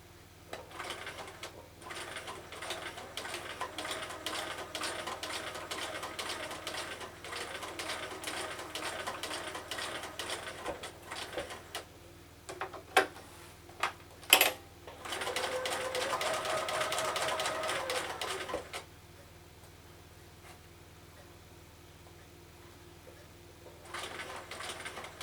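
A sewing machine stitches birthday bunting fabric close to the edge in long steady runs, its busy mechanical whir pausing briefly between bursts, with a quieter stretch near the end before it starts again.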